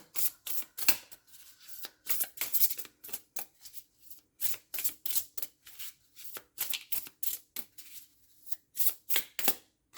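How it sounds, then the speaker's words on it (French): A deck of cards is shuffled close by, with rapid riffling bursts and soft flicks repeating in quick, irregular clusters. "Et maintenant, je vais battre les cartes."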